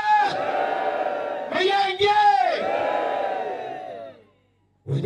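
A crowd at an Easter Friday evening gathering cheers and shouts loudly in bursts, with voices whooping over one another, a short break and then a sudden drop to near silence before the noise resumes.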